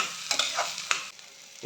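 Ghugni masala with mashed boiled potatoes sizzling in a pan, a continuous soft fry with a few quick spoon scrapes and stirs, close up with no voices.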